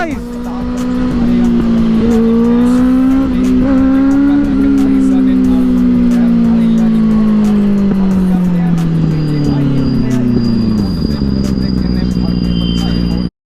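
A Benelli 600i motorcycle exhaust roars loudly at high revs during a drag race, a sustained engine tone climbing in short steps and then sliding slowly lower as the run winds down.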